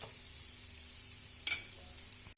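Carrots and green beans fry in a pan with a steady, close sizzle. A brief clatter of stirring comes about halfway through, and the sizzle cuts out abruptly near the end.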